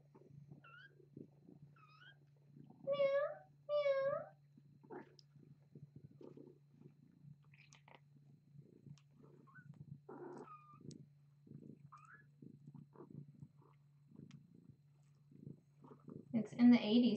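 Young kittens give a quick series of high, close meows, with a few more scattered later. A steady low purr-like hum runs underneath throughout, and a person talks softly between the calls.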